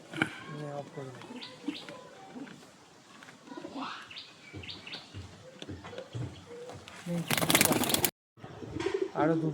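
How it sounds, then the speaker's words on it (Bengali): Pigeons of the Pakistani Kamagar breed coo in a low, repeated rhythm close by, with a person talking over them and a brief loud rustle or flap near the end. "আরও দুটি পায়রা আপনাদের সামনে তুলে ধরেছি, পাকিস্তানি কামাগার"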